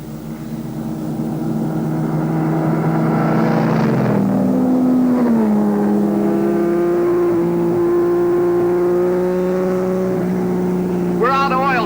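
A 1950s race car engine roars during a race, its loud, steady drone rising in pitch as the car accelerates, with a voice heard over it.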